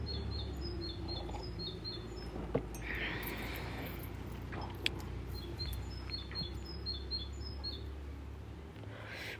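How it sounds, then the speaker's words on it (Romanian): A small bird sings nearby outdoors, repeating quick high chirping phrases in short bursts over a soft, steady background hum, fairly faint and never overlapping with talk. "Și ascultă păsărică cum îmi cântă la cap."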